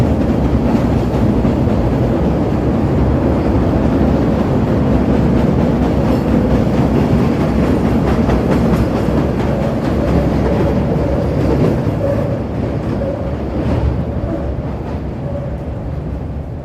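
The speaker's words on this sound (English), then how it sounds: "Here comes the train." A train rumbles past steadily and loudly, with rhythmic clacking of wheels over rail joints, easing slightly toward the end amid city background.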